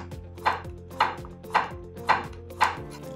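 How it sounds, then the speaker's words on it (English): A santoku knife chopping food on a cutting board: five crisp, evenly spaced chops about half a second apart, close and clear with no talking. "A santoku knife has a straighter blade that makes chopping really easy."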